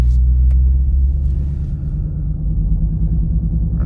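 A Dodge Hellcat Widebody rolls slowly through about four inches of deep snow, its engine a loud, steady low rumble close by with no talking.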